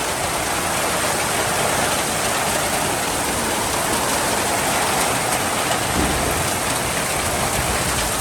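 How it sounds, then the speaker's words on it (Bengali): Heavy rain pours down continuously in a village during a dark storm, a dense, loud, unbroken roar of water with no break and no voices. "চারিদিকে অন্ধকার হয়ে গেছে, প্রচুর বৃষ্টি হচ্ছে"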